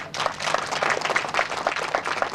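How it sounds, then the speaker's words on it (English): A school career fair audience giving a short burst of brisk, dense clapping, moderately loud and close, with no talk over it. "He deserves one more big round of applause, please."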